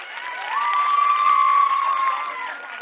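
An audience at a Mangalagaur celebration applauds to welcome a group, a dense wash of clapping that swells, holds steady, then eases off slightly.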